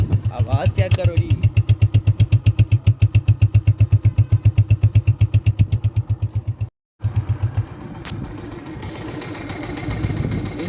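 A modified 125 cc motorcycle engine idles close and loud with a fast, even thumping beat that cuts out briefly, then gives way to a quieter rumble as a voice talks over it.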